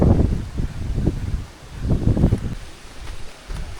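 Gusty wind sweeps through a forest on the trail to a waterfall, rising and falling in uneven surges of rustling and blustering noise close to the microphone.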